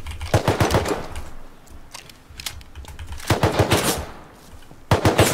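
Bursts of AK assault rifle fire in the survival game Rust, rapid sharp shots in three clusters of close, loud automatic fire separated by quieter gaps.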